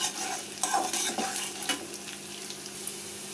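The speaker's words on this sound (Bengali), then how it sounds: "রসুনটা হালকা লাল লাল করে আগে ভাজি।" Garlic fries in a pan as the base for a loitta shutki (dried Bombay duck) bhuna, a close, bright sizzle broken by scraping stirs that fade toward the end.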